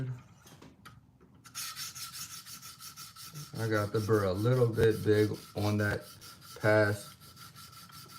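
A knife blade is stroked along a sharpening stone to even out the edge bevel, giving several short, rhythmic rasping passes at close range, with someone talking over parts of it.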